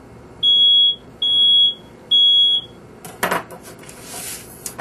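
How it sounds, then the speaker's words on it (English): Three long, high-pitched fire alarm beeps in a row, followed by a clatter of dishes and cutlery. "And set off the fire alarm."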